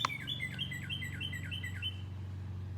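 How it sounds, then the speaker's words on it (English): A bird chirps in a quick, steady series of repeated notes outdoors in a neighborhood, over a constant low lawnmower drone. "I'm reading outside so you can hear lawnmowers and birds and all kinds of stuff in the neighborhood"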